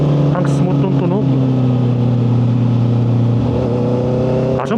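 A Honda CB650R motorcycle fitted with an Akrapovic exhaust idles and then revs, a smooth, loud and close engine drone rising in pitch with each blip, partly under a man's speech.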